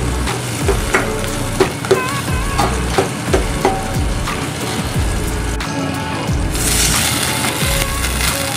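Garlic and onion sauté in a hot pan for sweet and sour bighead fish, a loud continuous sizzle broken by repeated scraping and stirring knocks of a utensil, close up, with a hiss burst near the end.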